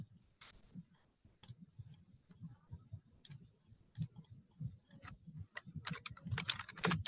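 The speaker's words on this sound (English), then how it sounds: "So I'm going to type" Keys clatter on a computer keyboard while text is entered in InDesign, with irregular bursts of taps that start sparse and grow into denser, louder runs near the end, close up and with no talking.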